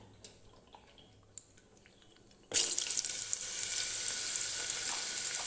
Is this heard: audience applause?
no